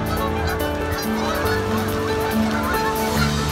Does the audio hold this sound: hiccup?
no